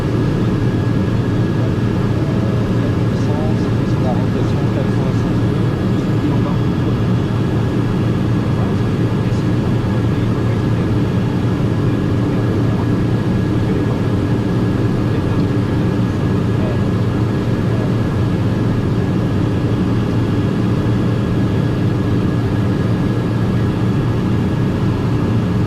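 A TBM 850 turboprop running steadily on the ground before takeoff, a loud continuous drone with a faint high whine throughout, while a pilot talks in French over it.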